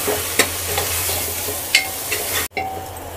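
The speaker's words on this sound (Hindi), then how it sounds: "अच्छी तरह से इसे सब्जियों के साथ भूनेंगे 2-3 मिनट।" Fresh corn kernels sautéing with vegetables give a close, steady sizzle, broken by a few sharp scrapes of stirring and one brief gap, with no talk.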